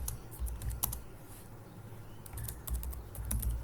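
Typing code on a computer keyboard: soft bursts of key clicks in two clusters with a short pause between, close and fairly quiet over faint low room noise.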